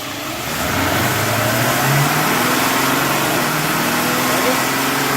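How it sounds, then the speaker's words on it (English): An overhauled 4L80E four-wheel-drive transmission with 300,000 miles spins on a dyno, giving a steady loud mechanical whine and rising engine-like drone, with pitch steps as it moves through the gears. "we'll run it through our little box here and shift the gears"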